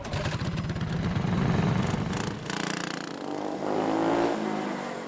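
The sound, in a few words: go-kart engines starting up and revving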